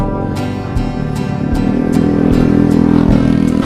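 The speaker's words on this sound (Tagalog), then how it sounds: "Gilid-gilid lang. Dami ng motor." Motorcycles pass loudly and close along a hilly road on a long bike ride, their engines droning steadily and building in intensity, with repeated clattering ticks over the continuous roar.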